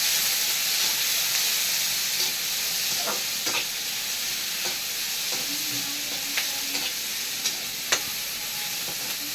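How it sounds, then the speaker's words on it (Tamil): Onions sauté in a pan for paneer butter masala, giving a steady, soft sizzle and hiss close by, with occasional light clicks of stirring. "நல்லா வெங்காயம் வதங்கியாச்சு."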